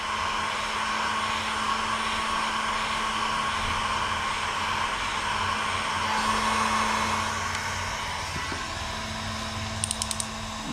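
A heat gun blows steadily to warm the adhesive under a sticker on a Segway G2 scooter front fork, a constant airy roar throughout, with a few faint clicks near the end.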